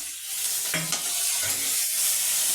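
Ginger paste fries in oil in a pan with a steady close sizzle, broken by a couple of brief scraping stirs near the start; no one speaks.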